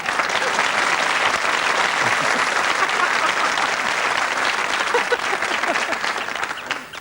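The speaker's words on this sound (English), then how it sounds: "Do anything for a round of applause." Sustained applause from a television studio audience at a 1985 Christmas Day variety show, loud and dense throughout before tapering off at the very end.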